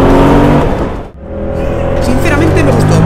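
Yamaha MT-07 motorcycle engine revving hard and close, with a brief drop in sound mid-pull as it shifts up a gear, then the rising note climbing again strongly.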